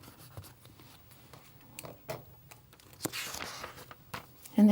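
Scissors snip the end off a planner sticker strip at a desk, giving a few quiet crisp cuts and paper rustles amid soft handling noise, close and faint.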